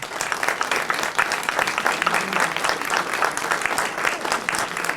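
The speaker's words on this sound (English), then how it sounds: "Let's give them all a round of applause." An audience at a Democratic congressional district debate applauds the candidates with dense, sustained clapping that stays loud and even throughout.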